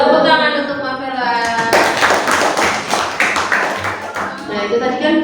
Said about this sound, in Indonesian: Tepuk tangan untuk Mafela.